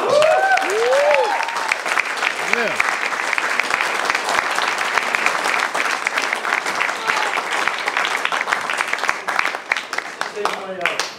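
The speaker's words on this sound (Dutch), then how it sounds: "Geef er een heel groot applaus." Big round of applause from an evening audience welcoming a singer on stage, dense steady clapping throughout with a few cheers and whoops at the start and near the end.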